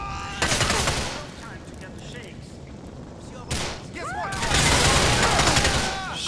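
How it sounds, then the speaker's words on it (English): Heavy gunfire from all directions in GTA 4, dense crackling volleys in surging waves, loud and close, with a short lull in between and faint bursts of shouting mixed in. "They are firing from everywhere."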